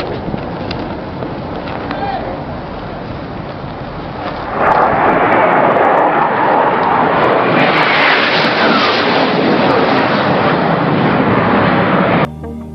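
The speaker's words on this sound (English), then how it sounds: "Looks like you may come across the flight deck, coming in low, bridge wing level." Low-flying aircraft passing over a ship's flight deck at bridge-wing height, a loud broadband roar that swells sharply midway and holds steady before cutting off near the end.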